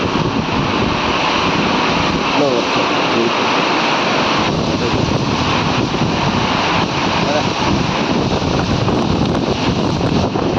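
A loud, unbroken roar of strong wind and heavy rain buffets the microphone, with a voice speaking briefly underneath.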